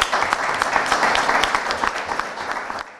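A crowd breaks into warm, dense applause, steady rapid clapping that fills the room and tails off at the end.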